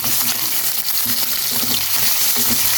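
Beef and garlic fry and sizzle in a hot pan as they are stirred, a steady, loud, close crackling hiss with faint scraping throughout.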